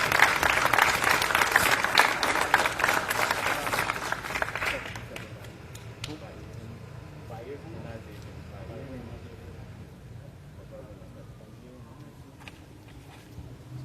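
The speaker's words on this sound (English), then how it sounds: "How about a round of applause for them" Audience applause at a Newark police chief's retirement ceremony, a broad wash of clapping for the first five seconds that thins and fades, with crowd murmur and voices continuing beneath.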